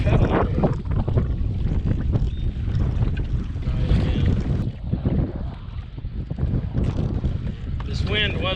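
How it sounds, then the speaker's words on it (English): Strong wind buffeting the microphone while drifting in a kayak on a river, a steady loud roar and rumble throughout with faint water sounds, no clear speech. "the wind is whipping"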